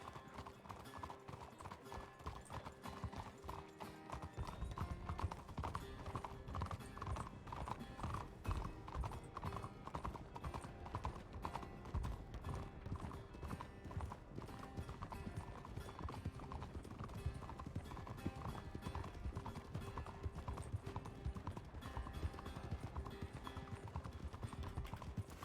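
Horse hooves clip-clop at a steady walking rhythm in RedM, the Red Dead roleplay game, on the WildRP server, faint but continuous and growing fuller after the first few seconds.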